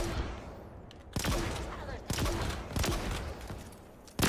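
Gunfire in the video game Halo Infinite while shooting an enemy, several sharp bursts spaced about a second apart over a low ambient bed, fairly loud and close.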